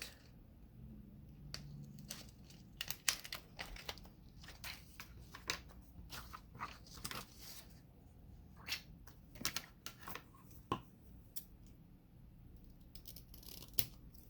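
An acetate sheet being cut and trimmed with scissors on a craft project, irregular crisp snips and slicing crackles close by, some louder than others, spread across a quiet background with no talking.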